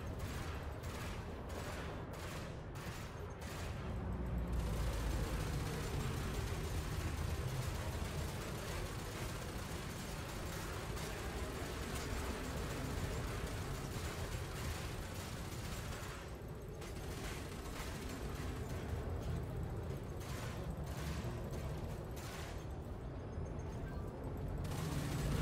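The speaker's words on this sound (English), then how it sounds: "I do have other people shooting me" Rapid bursts of gunfire from other ships in a space battle in Elite: Dangerous, repeated volleys of sharp shots in two clusters over a continuous rumbling combat din.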